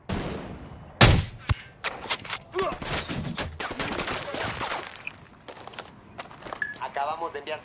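Gunfire in Ghost Recon Wildlands: a sharp loud shot followed by scattered bursts and rattling shots, with radio-style voices talking over the combat.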